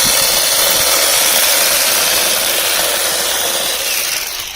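A Heimerdinger LB420 cordless handheld grass trimmer whirs loudly and continuously at close range while cutting grass, its steady high-pitched motor whine laced with a rough, scratchy cutting texture.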